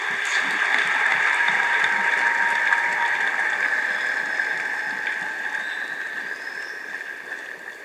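An audience at the Palais du Peuple applauds a minister at an official gathering, giving dense, continuous applause from many hands that holds steady and then slowly fades.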